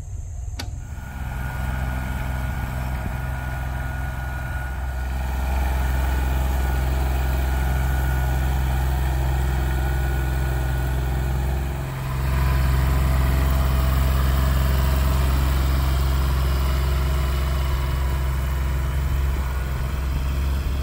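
A tractor engine runs in high first gear while preparing market-garden ground, a loud steady low drone with a deep hum that rises slightly after a few seconds and dips briefly midway.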